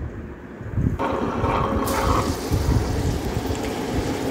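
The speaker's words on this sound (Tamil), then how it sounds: "அதை வந்து இப்போ கிரைண்டரில் போட்டு ஆட்டிடலாம்." A wet grinder churns soaked idli rice with water, giving a continuous watery swishing and rumbling that grows louder and brighter partway through, steady and close, with no talking.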